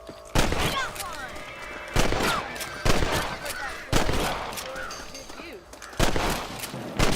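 Gunshots fired at rabbits in the Western game Red Dead Redemption on PS4, about six loud booming shots at uneven intervals, each ringing out briefly, with a short spoken line among them.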